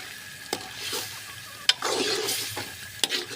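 Spicy beef is stir-fried in masala in a pan, a close, soft sizzle swelling and fading as the spoon scrapes through, with three sharp knocks of the utensil against the pot and no talking.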